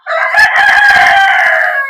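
A single loud rooster crows close by, one long drawn-out call lasting nearly two seconds.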